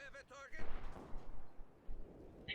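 Mortar fire in Company of Heroes 2, a deep booming impact and rumble that swells and then fades, mixed with other battle noise.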